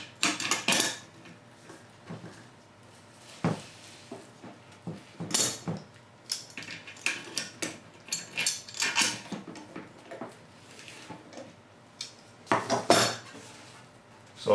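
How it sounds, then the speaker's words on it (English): Rusted large plastic nut on a close-coupled toilet syphon being unscrewed, giving a series of short scraping clicks and creaks in uneven bursts, close up and fairly quiet, with no talking. "So now all we need to do is remove this big plastic nut"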